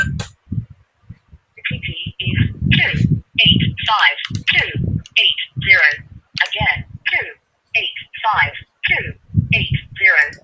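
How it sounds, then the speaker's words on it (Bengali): A phone rings with an incoming verification call during an online account sign-up. Short, bright ring bursts repeat in a regular pattern under a person's continuous talking. "যে আমার কল আসছে, আপনারা শুনতে পাচ্ছেন।"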